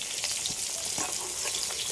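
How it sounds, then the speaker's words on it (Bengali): Hilsa fish pieces frying in hot oil until browned, giving a dense, even close-up sizzle with small crackles and pops running throughout. "মাছগুলো একটু লাল লাল করে ভেজে নিই"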